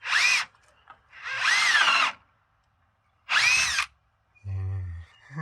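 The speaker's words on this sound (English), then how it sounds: "So just drill down obviously into the board." A power drill bores down into a wooden board in three loud bursts, the second one longest, with short quiet gaps between them; a voice talks briefly near the end.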